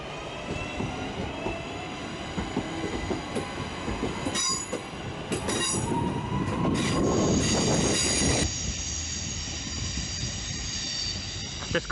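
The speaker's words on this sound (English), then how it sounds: "That's a double 323 unit heading down to Crewe." A double Class 323 electric multiple unit passes through a Manchester station, rumbling close with squealing wheels, then brief clatters before the noise drops away.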